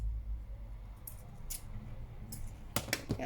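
Scissors snip through paper while trimming a collage journal page: a few short, crisp cuts spaced apart, then a quicker cluster of snips near the end, close and quiet with no talking.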